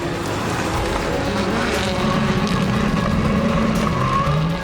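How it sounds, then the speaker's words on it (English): The orange Subaru rallycross race car pulls away at GRC Charlotte, its engine a loud rising roar over a broad trackside din, with a brief tire squeal toward the end. "The orange Subaru heads out."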